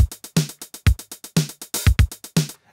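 An 80s-style drum machine pattern with the open hi-hat cut short by time compression: tight, punchy kick and snare hits and clipped hat strikes in a steady groove, each ending in an abrupt gated cutoff, with no talking.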